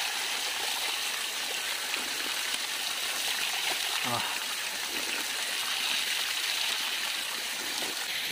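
Mountain spring water flows steadily on a hillside roadside, a continuous broadband rushing and gushing that stays fairly loud throughout, with faint voices underneath.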